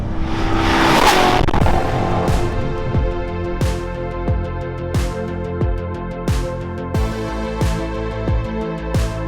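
A 2014 Chevrolet Corvette Stingray C7 drives past at speed, its loud engine roar and tire noise rising and fading as the car sweeps through repeated passes, close and without talk.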